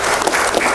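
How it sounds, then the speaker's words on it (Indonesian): Brief burst of applause from an audience of Islamic boarding school students at a Quran recitation gathering, dense clapping heard alone for under a second. "Tepuk tangan dong untuk santri Bedulan."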